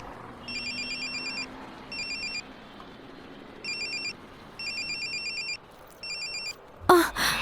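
A mobile phone ringtone plays from inside a bag in repeated electronic bursts with short pauses, set against a murmur of background noise, ending with a sudden louder rustle.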